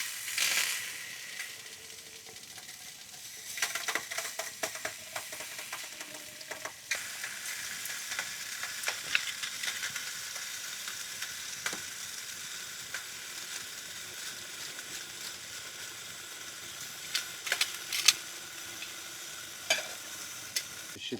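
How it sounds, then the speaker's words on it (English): Rice boiling in a pot on a small stove inside a hot tent during a solo Alaska winter camp: a steady bubbling hiss runs throughout, with occasional sharper clicks and clinks nearby and no talking. "We're gonna boil some rice instead"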